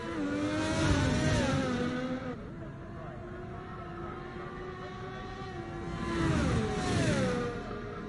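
Two race cars in a sim-racing drag to the finish line, their engines droning and shifting in pitch as they accelerate, louder at the start and end, with one car pulling a rising, whining note.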